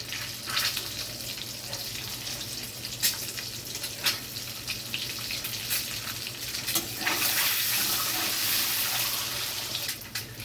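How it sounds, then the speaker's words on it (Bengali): Duck eggs fry in hot oil in a pan, a continuous crackling sizzle with occasional sharper pops and spatters across about ten seconds, fairly close and with no talking. "ডিমগুলো হালকা ভাজা হয়ে গেছে,"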